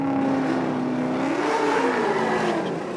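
A KingPerformance.com BMW drift car at a Formula Drift event in St. Louis gives a loud, continuous engine roar that swells and climbs in pitch midway, then holds a steady high drone.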